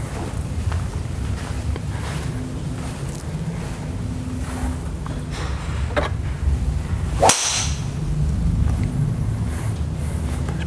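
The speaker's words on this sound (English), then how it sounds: "Pretty good drive, Cole." A golf driver swing striking the ball, a 96 mph clubhead speed sending it off at 145 mph: one sharp whoosh-crack stands out about two-thirds through, over steady wind and outdoor background noise.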